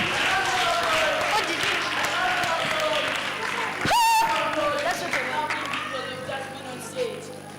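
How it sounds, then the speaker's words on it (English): Audience applause for Mtoto News at the Africa Children Summit 2025 pre-summit in Kenya, a dense crowd clapping steadily throughout, with a voice talking over it. "Give them a clap."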